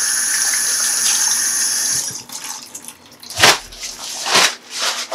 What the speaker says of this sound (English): just pour the contents of your spit bowl into the sink, rinse it, and rinse the toothbrush as well